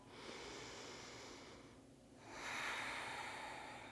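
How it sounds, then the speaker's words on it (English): A single full, deep breath during a calming yoga session, a long soft inhale followed by a brief pause and a steady airy exhale, close and quiet with no other sound. "Take a full deep breath."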